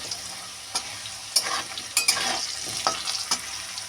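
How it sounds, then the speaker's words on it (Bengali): Potatoes fry in a pan with a soft, steady sizzle, broken by several sharp clicks and scrapes as a spoon stirs them, close and with no voices. "দেখো আলুটা কিন্তু ভাজা হয়ে গেছে।"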